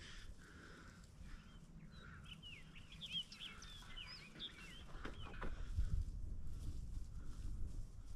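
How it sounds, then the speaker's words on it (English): Chicken clucking faintly in an outdoor garden setting, a scattered series of soft calls over a low rumbling background. "we got a bird in here."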